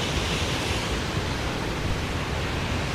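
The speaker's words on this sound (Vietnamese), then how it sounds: "chỗ này thì là một con suối rất là to." A large mountain stream near Sapa rushing steadily, a dense, even roar of flowing water that fills the whole stretch without pause, close and fairly loud.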